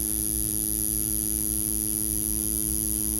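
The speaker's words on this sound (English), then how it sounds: "this specific Ambition Ninja tattoo machine definitely performs" An Ambition Ninja wireless tattoo machine runs steadily up close, giving a continuous buzzing hum with a fast, even pulse and a high whine over it.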